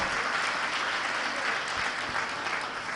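A religious discourse audience bursts into loud, sustained applause, a dense continuous wash of clapping filling the hall for the full three seconds, with no speech over it.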